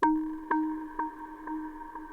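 A bright synth tone in a chill house track sounds once, then quarter-note delay echoes repeat in even, fading steps, each quieter than the last, trailing into a washed-out reverb tail.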